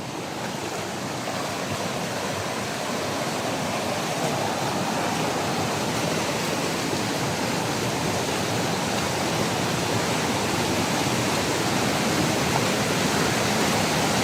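A strong, very clear river rushes hard and steady during a typhoon in Mindoro, making a loud broadband roar up close that holds without a break and has no voices over it.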